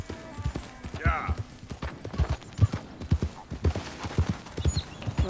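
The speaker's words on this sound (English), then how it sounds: "That's a horse." Horse hooves clip-clop in a steady walking rhythm in the Red Dead Redemption 2 video game, with a brief neigh early on, while people talk over the sound.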